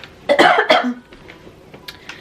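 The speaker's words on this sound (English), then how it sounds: "I coughed in my elbow because I have something in my throat" Someone with something caught in their throat coughs twice into their elbow: two sharp close bursts in quick succession, then quiet with faint small sounds afterward.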